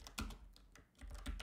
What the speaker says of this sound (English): pressing Ctrl T and typing ChatGPT and directly launching a chat from here